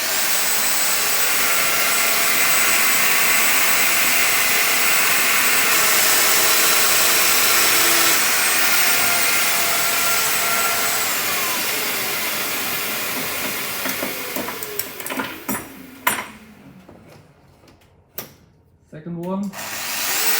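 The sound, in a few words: Festool Domino DF 700 joining machine running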